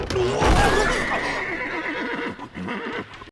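A carriage horse whinnies loudly up close, a wavering neigh followed by snorting and faint hoof clatter.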